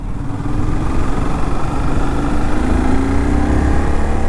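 A fairing sport motorcycle, like a CBR, runs steadily at idle. Its engine gives a loud, close, even throbbing drone that holds at the same level throughout, with no voices.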